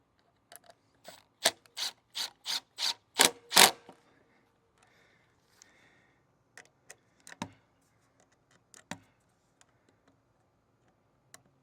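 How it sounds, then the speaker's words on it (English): Screws being driven into wood while mounting a rabbit and quail enclosure: a close, rapid series of ratcheting clicks comes in a short burst, then a few scattered faint clicks and taps with quiet gaps. "So let's go ahead and get a couple screws started here."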